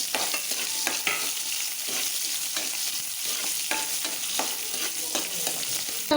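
Onions with crushed fennel seed frying in a pan for a South Indian kofta curry, a steady close sizzle broken by regular scraping stirs of a spoon, with no voices over it.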